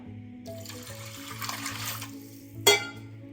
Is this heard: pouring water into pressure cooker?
yes